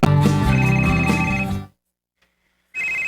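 A telephone rings loudly and close, a trilling electronic bell burst that stops for about a second of silence, then starts again, with no talking.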